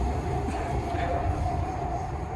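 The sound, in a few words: Chennai metro train from Koyambedu to Central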